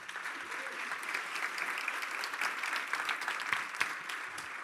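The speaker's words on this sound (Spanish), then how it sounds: "Un aplauso para Dios por eso." Congregation applauding in a church, steady broad clapping from many hands held at an even level for the whole stretch, with no talk over it.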